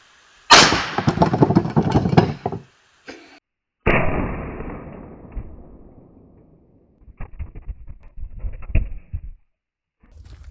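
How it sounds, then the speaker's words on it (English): Several sharp .22 rifle shots fired at Stanley tumblers, each a loud close crack with a decaying tail, followed by a burst of quicker cracks and rattling impacts, with no talk. "All right, we just shot the 22."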